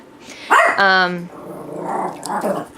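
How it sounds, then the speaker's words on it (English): A pet dog barks sharply, then growls and grumbles close to the microphone, with a person's voice briefly mixed in. "Sorry, that's my dog."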